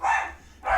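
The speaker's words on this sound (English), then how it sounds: "And sorry about the dogs." A dog gives two close, loud barks separated by a short gap.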